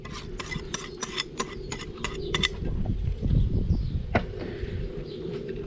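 Cake batter with eggs and fromage blanc is mixed in a bowl, with a quick run of bright clinking utensil strokes followed by a thicker, sloshing stir and a single sharp tap.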